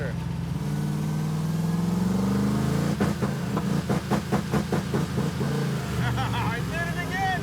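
Engine of a Hemi-powered Gremlin revving hard with no rev limiter, a loud steady roar that breaks into a rapid stuttering pulse midway, with someone talking over it.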